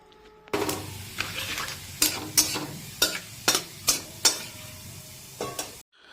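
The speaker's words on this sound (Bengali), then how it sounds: "এটা কিন্তু আলু যে ভেজেছিলাম সেই তেলেই আমরা দিয়ে দিচ্ছি ফোড়নটা" Ginger, garlic and green chili paste dropped into hot oil left from frying potatoes, hissing and sizzling close by, with a spatula knocking and scraping the pan in regular strokes before the sound cuts off.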